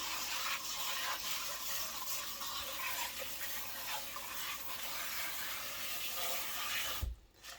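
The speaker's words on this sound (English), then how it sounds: "use cold water and rinse that real well. Wash that around, pour off that water, and do it again." Cold water runs and sloshes over curly kale in a sink as it is rinsed, a steady broadband rush lasting several seconds, then stopping abruptly as the water is poured off.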